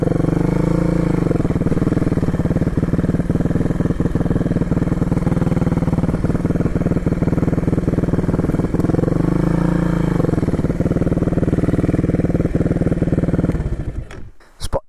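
Supermoto dirt bike engine droning steadily and loudly while riding, with a constant rev and occasional swells in pitch, ending abruptly with a brief clatter near the close.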